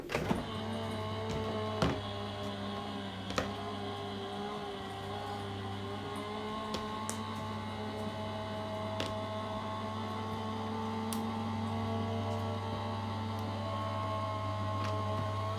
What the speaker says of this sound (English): that's then going to go through our die cutting machine